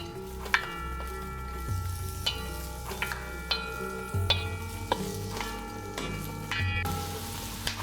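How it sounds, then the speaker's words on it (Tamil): Veld grape sautés in sesame oil in a pan, with a soft sizzle under repeated metallic stirring clinks and scrapes at an irregular pace, moderately close. "இப்போ பிரண்டையனா நல்லெண்ணெய் விட்டு நன்னா வதக்கிறேன்"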